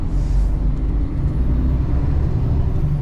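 An empty truck labouring through a slow gear change, with a loud, low engine rumble from inside the cab, a brief hiss of air early on and a rising whine near the end.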